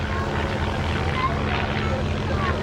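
Propeller aircraft flying gentle, flowing aerobatics with smoke at the 2004 Chailey airshow, heard as a steady engine drone that holds throughout, with a voice faintly present.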